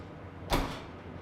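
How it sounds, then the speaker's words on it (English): The door of a Henny Penny FlexFusion Platinum Series combi oven swings shut in one short, solid thud, with a quiet hum before and after. "Pull those out, we can just close the door."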